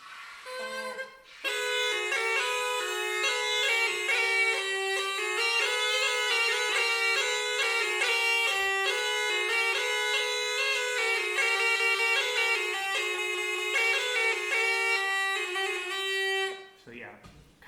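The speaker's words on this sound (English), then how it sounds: "it's a bagpipe from a particular region of Croatia called Istria" Istrian bagpipe from the Istria region of Croatia playing a melody in the Istrian scale, a loud, continuous reedy drone with shifting pitches held for about fifteen seconds, heard alone without talking.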